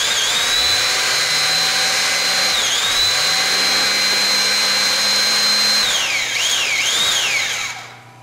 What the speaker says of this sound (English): That runs the ram all the way forward.